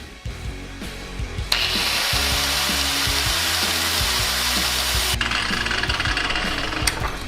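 A power tool cuts through brass tubing, starting abruptly with a loud, steady grinding whine that holds for several seconds before easing off, with rhythmic low knocks of the motor beneath.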